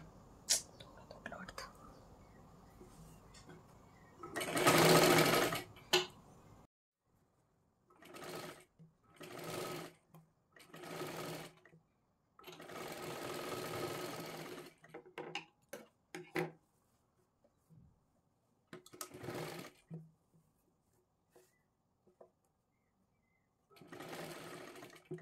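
Sewing machine double-stitching the sleeve of a size 37 katori blouse, joined from the middle, running in short bursts with quiet pauses between, close by, with occasional soft handling sounds and a faint voice.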